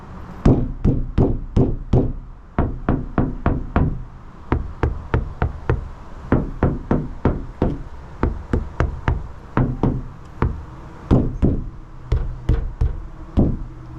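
Sharp knocks on a bare 2024 Ford Transit van metal panel without sound deadening, coming in quick irregular bursts of several raps each, loud and close, with a ringing boomy resonance and no voices.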